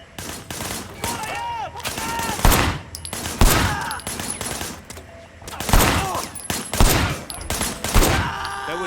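Gunfire aimed at people, a series of loud, sharp shots in irregular bursts mixed with crackling echoes, spaced across several seconds with heavy noise between volleys.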